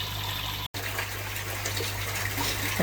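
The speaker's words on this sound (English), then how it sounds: "Let's drain some of that water out." Water gushes steadily from a garden pond filter as it is drained, a continuous loud rushing flow broken by one brief cut-out near the start.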